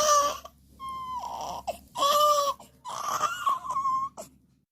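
A baby with a congested chest and a cold cries nearby in strained, muffled wails, about four bursts broken by short pauses, fading at the end.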